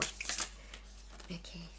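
Tarot cards being shuffled by hand, giving short papery riffling bursts at the start and again briefly later, fairly quiet with a steady low hum underneath.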